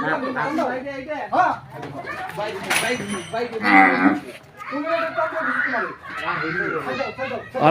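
A bull at a livestock sale lows loudly amid a crowd, with several people talking and children's voices around it and movement throughout.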